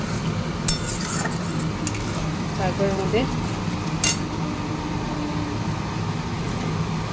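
Ground paste of ginger, coriander, cumin, chili and turmeric being stirred and fried in a pan, steady sizzle with metallic spoon clinks and scrapes against the pan, a few brief words spoken over it.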